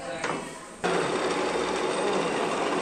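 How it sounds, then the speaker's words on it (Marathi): A repaired lathe machine starts up and runs, its motor jumping from a softer hum to a loud, steady mechanical whir that holds constant, with a person talking over it. "फायनली मित्रांनो आपली मशीन चालू झालेली आहे ते मोठीवाली"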